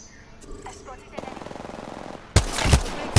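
Video game gunfire: a quick run of rapid automatic shots, then louder, heavier bursts of close fire that fill the end of the clip.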